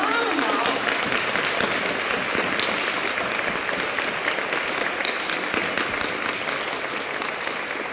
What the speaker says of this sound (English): these fabulous speakers who deserve a huge round of applause